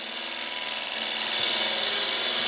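A bowl gouge rides its bevel along freshly cut wood spinning on a lathe, making a continuous, fairly loud rushing hiss that swells slightly partway through, with no voices.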